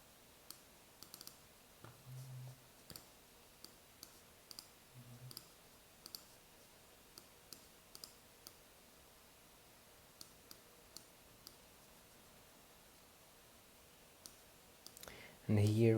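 Computer mouse clicks in Photoshop: sharp, faint single clicks spaced irregularly against a quiet background, with a short burst of louder sound at the very end.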